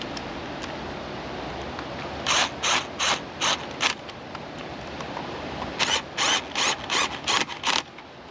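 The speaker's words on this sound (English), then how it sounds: "get our ratchet and snug these up." A ratchet tightens bolts on a Johnson Evinrude 115 hp 60-degree V4 outboard, with two quick bursts of rapid clicking strokes, near and distinct against a quiet background.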